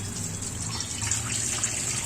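Malabar spinach and other vegetables are rinsed under a running kitchen tap; the water flows in a steady, even rush close by, with no one speaking.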